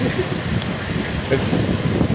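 Steady, loud wind buffets the microphone throughout, a constant rushing roar with no pauses.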